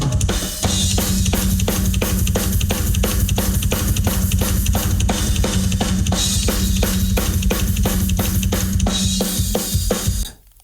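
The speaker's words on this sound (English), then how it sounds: "So drums on their own sound like this." An isolated drum track from a live metal performance, loud and steady with rapid driving kick and snare hits and dense cymbal wash throughout, cutting off abruptly at the end.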